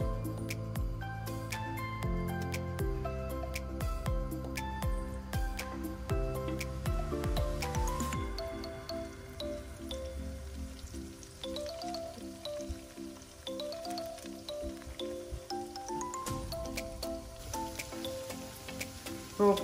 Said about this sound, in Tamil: இப்போது இந்த ஆயிலில் ஒரு ஒரு இட்லி பீசஸாக வந்து சேர்த்துடலாம்.